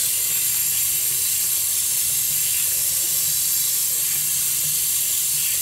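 Running water rinses make-up brushes as product is worked out of the bristles, a steady bright hiss of tap flow with soft sloshing and handling noises throughout.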